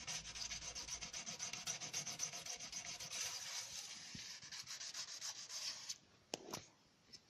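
A diamond slipstone rubs back and forth along a speed skate blade to take off the burr, a soft, close rasping scrape in quick, even strokes. The scraping stops near the end, followed by a few faint taps and handling noises.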